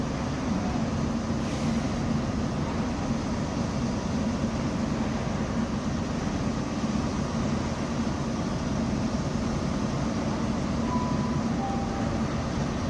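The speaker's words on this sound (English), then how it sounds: "this is one Purple 57, 1640, Great Western Railway service from Great Malvern to London Paddington" A Great Western Railway passenger train passes through Slough on the Great Western Main Line, a steady, continuous roar of wheels and wind noise with no pauses.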